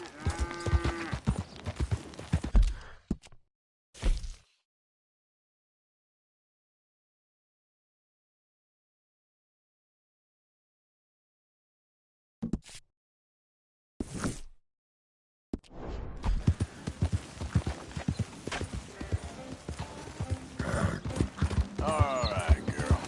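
A horse in Red Dead Redemption 2 clip-clops along under a rider, with hoof beats and a spoken voice at the start, a long silent gap, then hooves and talk returning.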